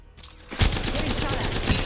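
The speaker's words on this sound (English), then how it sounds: "Getting shot at." Rapid gunfire in Apex Legends erupts after a brief quiet lead-in, a dense sustained burst of automatic shots filling the rest of the moment, loud and close.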